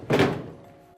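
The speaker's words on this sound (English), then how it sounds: "go ahead and take this door off" A metal access panel on a Goodman MH E7EM furnace gives one solid thunk as it is lifted off, a short dull knock with a faint metallic ring trailing away for most of a second.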